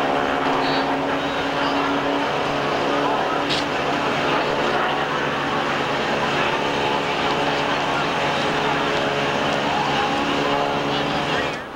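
A 1992 NASCAR stock car engine at the Hooters 500, heard from inside the car: a loud, steady, sustained roar of engine drone with strong harmonic tones throughout, briefly fading at the end, with no talk.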